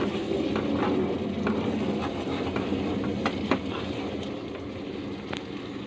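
Kashmiri chili powder goes into a pan of frying dhaba-style egg tarka made with whole green moong, and the dish is stirred. A loud, continuous sizzle runs throughout, marked by occasional sharp scrapes of the spoon.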